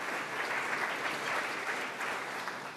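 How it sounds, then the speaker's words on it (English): An audience at an award program gives a steady round of applause, a dense, even wash of many hands clapping with no voices over it. "if you'll give them a big round of applause as well."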